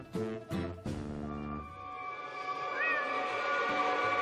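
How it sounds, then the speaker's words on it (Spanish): A cat meows three times in quick succession, close and clear, then a quieter drawn-out cry trails off over a soft background hum. "¿Ese no es el gato secuestrado que el pueblo entero anda buscando?"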